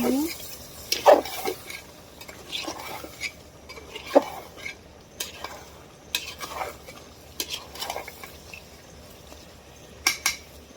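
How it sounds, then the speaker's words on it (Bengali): Potatoes stir-fried with spices in a pot for beef curry, heard as intermittent spatula scrapes and clinks against the pan over a low sizzle, with quiet gaps between the stirring strokes. "এখন আলু দিয়ে দিব আলু দিয়ে দিলাম মশলাগুলো কষাই"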